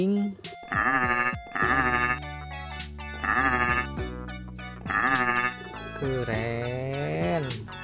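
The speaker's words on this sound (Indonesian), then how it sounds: "Kambing." A video game goat bleats repeatedly in loud, wavering cries, several calls in a row over a steady musical backing.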